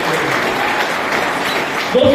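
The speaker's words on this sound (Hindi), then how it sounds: "एक बार जोरदार तालियां दोस्तों" An audience applauds at a network marketing seminar in India, a dense continuous wash of clapping filling the short stretch, with a voice rising near the end.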